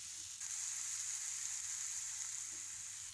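Tomatoes and bitter gourd sauté in a pan for a pavakkai thokku, giving a steady, close sizzle with a continuous frying hiss and no voices.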